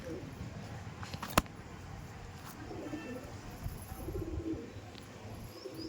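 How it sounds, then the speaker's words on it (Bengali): Soft pigeon cooing in a noisy room, low murmuring calls with a sharp click or tap partway through; no clear talking. "খুব ছটফট পায়রা"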